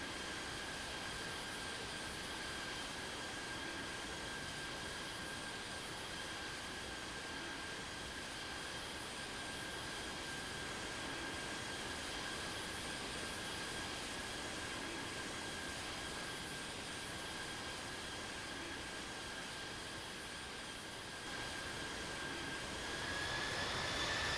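Simulated Boeing 787 jet engines in the Infinite Flight game on a Sydney to Melbourne flight, a faint, steady droning hum with a constant tonal whine that swells slightly at the very end, no talking.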